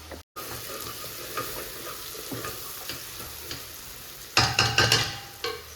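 A ladle scrapes and clinks around a pot of mutton dum biryani. The food sizzles softly throughout, and a louder run of scraping stirs comes near the end.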